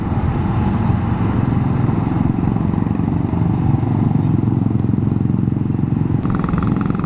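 A BSA motorcycle engine running loud and close at a bikers' breakfast ride in Delhi, a steady rough mechanical drone with clatter, holding constant throughout.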